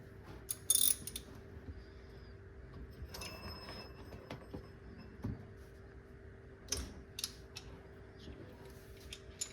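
Bolts are worked loose from the brake rotor of a Ford Focus XR5/ST225 during a slotted rotor upgrade. A tool clicks and ratchets in sparse mechanical bursts, fairly quiet, with one sharp metallic clank near the start.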